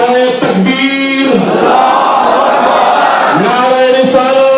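A protest crowd in Bhavnagar roars slogan responses in unison, loud sustained collective shouts that rise, hold and fall in repeated waves, with voices layered together close to the microphone.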